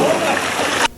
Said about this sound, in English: Not much jump, but a big splash.